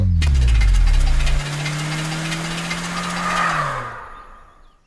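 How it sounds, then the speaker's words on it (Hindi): A car engine sputters and knocks loudly as it breaks down, a low rumbling drone sliding downward and fading to near silence over a few seconds. "गाड़ी ब्रेक डाउन हो गई है।"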